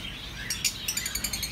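Small birds in a pet bird shop chirp and tweet in quick repeated calls, several overlapping at moderate distance over a low background hum, with no talking.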